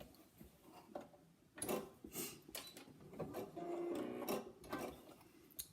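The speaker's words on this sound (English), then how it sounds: "you're ready to machine those gaps closed" A sewing machine runs in short stitching bursts, sealing the gaps of a handmade fabric pot closed; close, moderately loud whirring runs with brief pauses between, no talking.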